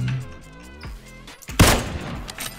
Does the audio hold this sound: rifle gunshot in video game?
yes